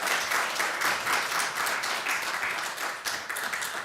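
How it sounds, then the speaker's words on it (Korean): Congregation applause at a church mission service welcoming two pastors to the front, a dense, steady patter of many hands clapping continuously at close-to-moderate distance, with no speech over it. "박수로 맞이해 주시기 바랍니다"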